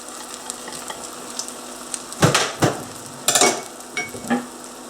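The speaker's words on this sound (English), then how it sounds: "Now see how that's starting to sizzle already around the sides?" Soft sizzle of an egg mixture frying in a stainless-steel pan with a few louder bursts of crackling and scraping, close by, no voices.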